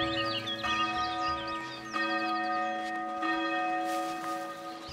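A church bell rings repeatedly in the medieval city-building game Foundation, its sustained metallic tones layered with strikes ringing out over faint birdsong and ambient background.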